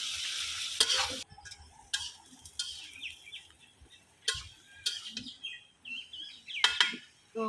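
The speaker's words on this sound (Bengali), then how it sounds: "তরকারি কালারটা মিশাইয়া আমি ভালোভাবে কষাই নিব" Rohu fish curry with winter vegetables and masala being stirred in a pan: intermittent scraping strokes and soft sizzling at close range, with chirping birds audible in the background between the bursts.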